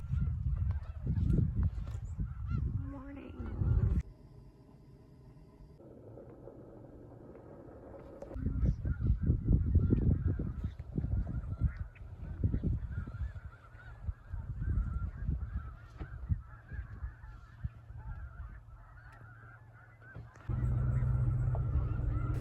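Geese honk in loud overlapping bursts at Bosque del Apache on a chilly morning, a clamorous flock calling nearby with quieter gaps and a low wind rush between waves of calls.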